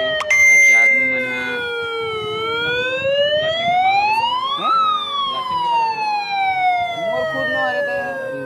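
A mine warning siren sounding before blasting, its loud wailing tone rising, peaking, then slowly falling, continuous and close, with faint background noise.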